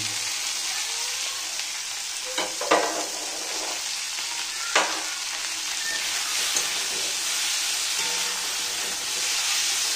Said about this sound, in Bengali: এটাকে আমি একটু ভালো করে ভেজে রাখবো।